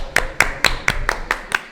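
A few people clap at a Super Smash Bros. tournament quarter final, eight evenly spaced, sharp claps close by over about two seconds.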